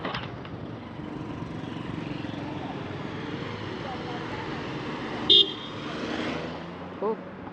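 A car horn honks on a busy street in Nairobi's central business district, one sharp short toot followed later by a fainter second one over constant traffic rumble and nearby talk.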